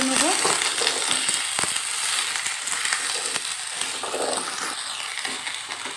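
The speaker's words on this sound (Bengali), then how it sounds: "কুমড়োটা দিয়েও আমি 2 মিনিট একটু নাড়াচাড়া করে নেব" Drumsticks and pumpkin pieces fry together in a pan with a continuous bright sizzle and soft intermittent scraping and knocking of a stirring spoon, close up, and nobody speaks.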